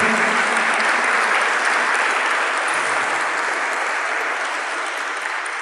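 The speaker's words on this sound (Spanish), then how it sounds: "Dale un aplauso al Señor." A church congregation breaks into loud, sustained applause, a dense wash of many hands clapping together that tapers slightly toward the end.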